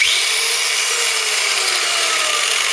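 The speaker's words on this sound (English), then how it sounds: "this is this little Bosch 650 watt one" A small Bosch 650 watt angle grinder runs steadily and alone, a loud continuous high-pitched whine with a slight downward drift in pitch over a few seconds.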